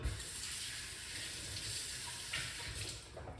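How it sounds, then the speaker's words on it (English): A homemade belly-fat burner drink is poured through a strainer, giving a steady, close trickling and splashing of liquid that runs unbroken with slight surges and no talking. "we're going to run it through our strainer right here"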